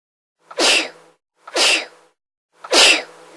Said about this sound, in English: Is sneezing making you miserable?